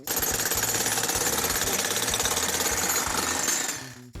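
A demolition hammer pounds steadily and loudly with rapid continuous impacts, breaking up concrete for about three and a half seconds before cutting off.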